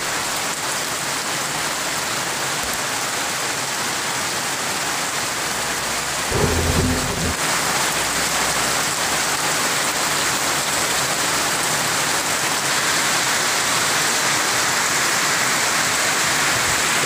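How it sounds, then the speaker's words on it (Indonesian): Heavy rain pours steadily onto village roofs at Desa Mentawak, RT 02, a dense unbroken hiss with thunder rumbling through and a brief louder thump midway. "kami kabarkan kepada teman-teman sekalian bahwa hujan sangat deras di Desa Mentawak"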